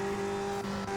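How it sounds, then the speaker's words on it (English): A race car in Indianapolis 500 Evolution, racing the 1964 Langhorne 100, slides slightly with a steady, loud engine drone holding a constant tone for a second. "This car slides just a little bit out."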